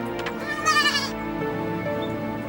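A goat bleats in a loud, wavering cry, with fainter bleats before and after it over a steady low background and no talking.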